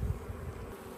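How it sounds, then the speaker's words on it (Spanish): Honeybees buzz inside a beehive that is making strange noises, a close, dense, steady drone that fills the whole second. "Te lo digo, Andrea, esta colmena hace unos ruidos muy extraños"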